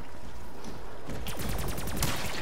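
Rapid bursts of pack-a-punch gunfire in the Call of Duty Black Ops 3 Zombies mode Shadows of Evil, a dense run of loud, closely spaced shots building after a quieter first second over a steady game background.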